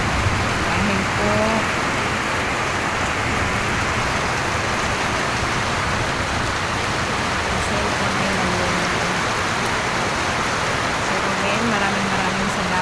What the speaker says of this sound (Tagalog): dahil po lakas ng ulan